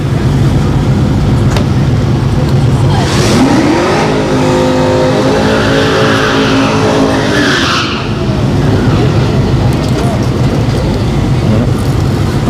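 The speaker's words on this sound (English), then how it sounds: "Looks like a Camaro's pulling up." A ZL1 Camaro drag car rolls up at Orlando Speed World's Friday night drag strip, its loud engine revving over constant crowd and track noise, with a tire squeal in the middle of the pass.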